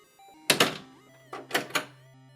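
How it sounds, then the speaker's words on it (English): A door slams shut with a heavy thunk, followed a moment later by a few clunking knocks as it locks, close and alone against a quiet backdrop. "You step through the door, which instantly slams behind you and makes a locking noise."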